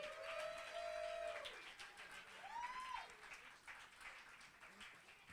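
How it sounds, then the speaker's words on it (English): Rally crowd at an outdoor political event applauds Cheri Honkala, steady broad clapping with whistles and cheers rising over it, moderately loud, with bird-like whistled tones near the start. "one more round of applause for Cheri Honkala"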